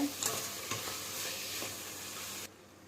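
Tomatoes and okra sautéing with coarse salt in a pan for vendakkai puli kulambu, a soft sizzle with a few clinks and scrapes of a stirring spoon before the sound cuts off abruptly.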